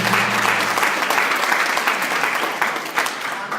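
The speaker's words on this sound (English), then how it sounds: "Can we clap Master Jesus?" Church congregation clapping in a sustained, dense burst of applause at a healing testimony service, loud and continuous across the whole stretch with no voices rising above it.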